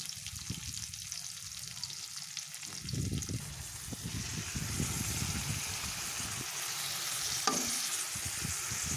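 A spice masala of ginger garlic paste, tomato ketchup and oil fries in a pan while being stirred. It gives a continuous close sizzle with soft scraping and thudding stir strokes, and there is no talking.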